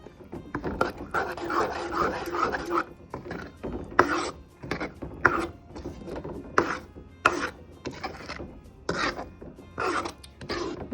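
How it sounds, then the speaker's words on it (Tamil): Roasted ground spice powder stirred and mixed through tamarind rice paste for Madurai-style puliyodharai, a run of close, rough scraping and rubbing strokes with short pauses, steady and fairly loud, no talking. "இந்த வறுத்த பொடியை நாம் இதில் கொட்டிடலாம் கொட்டிட்டு நல்லா கலக்கி விடுங்க"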